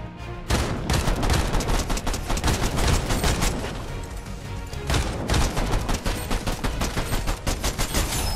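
Pistol gunfire in a Fortnite match rings out as rapid, dense volleys of sharp shots, loud and near, broken by a brief lull before more firing resumes, with no voices.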